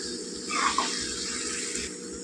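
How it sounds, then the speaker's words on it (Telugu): Water is poured from a glass into a pan of potato curry. It makes a brief splash, then a steady sizzling rush, with no talk. "ఇప్పుడైతే మనం ఇందులో తగినవి నీళ్ళు వేసుకుందాం ఒక గ్లాస్ వేసుకున్నానండి నేనైతే"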